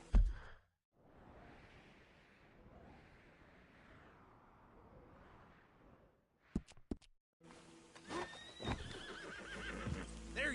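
A horse in the video game Red Dead Redemption 2 gives a long breathy whinny after a sharp snort, followed by a few hoof clops and other game sounds.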